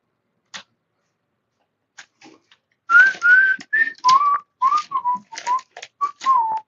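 A person whistles a tune in short, bright melodic phrases after a few scattered clicks, close and clear, with brief pauses between notes.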